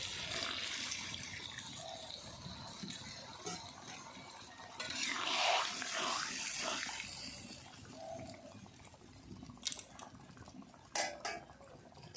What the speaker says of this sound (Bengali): সামান্য একটু জল দিয়ে দেব।